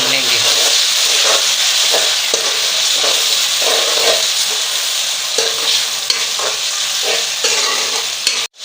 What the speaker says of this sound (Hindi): अब हम इसमें टमाटर ऐड कर लेंगे जो हमने धो के काट लिए थे, और इसे अच्छी तरह भून लेंगे